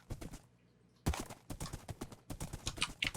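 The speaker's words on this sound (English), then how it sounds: "Hey, Seamus the horse." Horse hooves clip-clopping in Minecraft, a run of quick uneven steps after a short pause, fairly faint with no voices.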